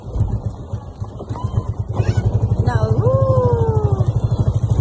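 A small motorboat on a ride at Tondaligan beach chugs with a steady, pulsing engine throb, loud and close, with people talking over it.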